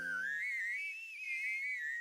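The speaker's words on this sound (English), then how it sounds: "Oh no, this weird whistling." A weird wavering whistle in the video game Punishing: Gray Raven, a thin high tone bending gently up and down and sustained clearly for the whole stretch after a brief low hum at the start.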